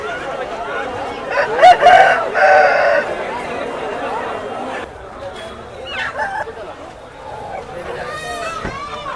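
Native country chickens cluck and a rooster crows at a busy poultry market in Akkirampura, with people talking nearby over the birds.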